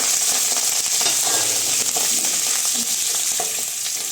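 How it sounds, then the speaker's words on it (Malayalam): Coconut pieces and curry leaves fry in a pan with a steady, bright sizzle and light stirring scrapes, close and continuous throughout. "ചെറിയൊരു കഷ്ണം തേങ്ങയും കൊത്തും കരിവേപ്പിലയും കൂടെ ഒന്ന് വറുത്ത് പോരാം"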